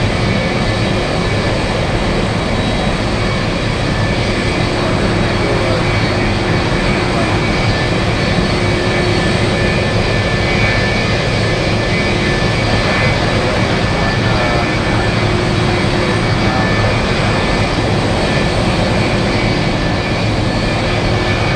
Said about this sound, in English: 747. So close to us